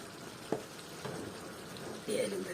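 Tomatoes cooking in a pan, sizzling and frying softly with a few light spatters and stirring taps, fairly quiet and close.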